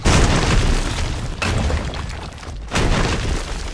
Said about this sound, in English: Your team has destroyed a left enemy tower.